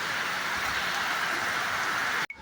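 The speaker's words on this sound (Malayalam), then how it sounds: "നല്ല മഴയാണ്" Dense, steady hiss of heavy monsoon rain pouring without pause at a campsite in Kerala, then an abrupt cut near the end.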